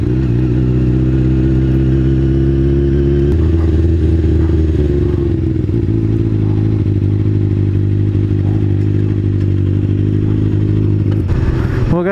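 A motorcycle engine drones loudly and steadily while riding, with the pitch shifting as gears change and a brief clatter near the end.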